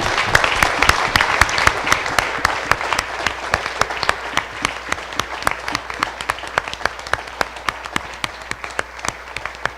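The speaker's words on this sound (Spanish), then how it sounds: "Si le va a aplaudir al Señor, apláudale." A church congregation applauds, a loud, close burst of many hands with sharp individual claps standing out; the clapping runs continuously and slowly thins toward the end.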